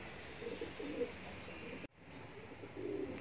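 Pigeons cooing softly while eating at a home, low repeated coos over faint background hiss, with a brief dropout midway.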